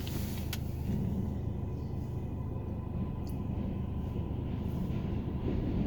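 A 7 train rumbles along the tracks during rush hour on Roosevelt Avenue in Queens, a low, steady, distant roar heard from a car below, with a few faint clicks.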